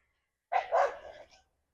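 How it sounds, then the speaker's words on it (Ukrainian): A single short dog bark, fairly distant and faint, standing alone against silence, heard on a walk by the water. "Ти собака так розгавкалась там."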